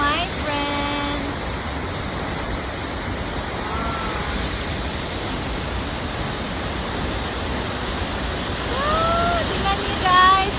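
A partly frozen waterfall at Falls Creek Falls on a winter hike gives a steady, broad rush of falling water that continues without a break. Faint voices and a few brief tonal sounds occur near the start and the end.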